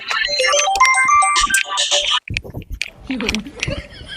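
A bright electronic ringtone melody plays loudly for about two seconds, then cuts off, followed by scattered clicks and brief voice sounds.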